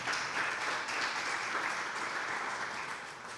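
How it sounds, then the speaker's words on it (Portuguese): A church congregation applauds, a dense, even wash of many hands clapping heard somewhat distant and faint, holding steady before easing slightly. "Aplauda o Senhor"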